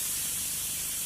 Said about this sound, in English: I will open this. You can hear the hissing noise.